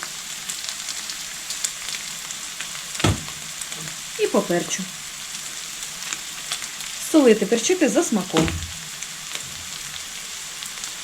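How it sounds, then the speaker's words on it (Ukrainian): Carrot and onion fry in a pan, a soft continuous sizzle broken by a few louder bursts of stirring and scraping, while a person talks over the cooking. "Морква з цибулею підсмажилась"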